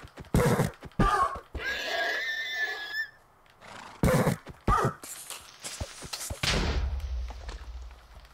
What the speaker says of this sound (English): I'm gonna kill horses for leather.